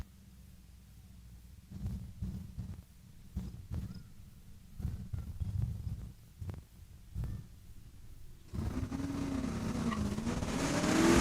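A convertible Mustang launches at a drag strip at a Saskatchewan raceway, with engine bursts and revs near the line building into a loud, rising roar as it pulls away.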